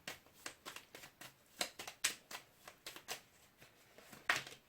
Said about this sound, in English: Let's give them another quick shuffle.